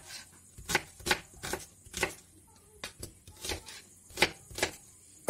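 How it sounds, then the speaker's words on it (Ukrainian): A knife chops onion on a cutting board, about a dozen sharp, separate strikes at an uneven pace, close and fairly loud with quiet gaps between them. "Отже, цибуля в мене нарубана"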